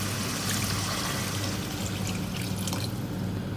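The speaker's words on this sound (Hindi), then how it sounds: "अब इसमें पानी डालूंगी" Water poured from a cup into a pot of potato and chickpea masala for aloo chana pulao, a steady close trickle and splash running for a few seconds with no talk.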